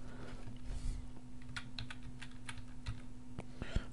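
Someone typing a password on a computer keyboard while logging into a Hungarian dating site, a steady run of light clicking keystrokes over a constant electrical hum, close and with no talk.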